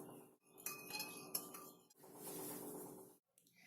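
Coffee powder, sugar and water are stirred in a cup, with a spoon clinking and scraping against the sides in quick bursts separated by short pauses, quiet and close.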